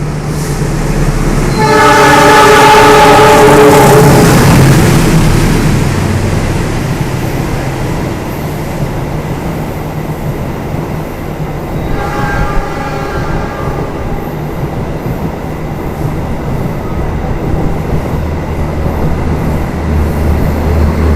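An Argo passenger express running between Solo and Jakarta, hauled by a rare special locomotive, sounds a loud horn blast and then a second, fainter one as it rolls through Bekasi station, with steady rumble of wheels on rails throughout.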